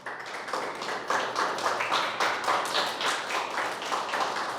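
A church congregation applauds together during a Spanish-language sermon, a dense, even patter of many hands at moderate volume with no talking.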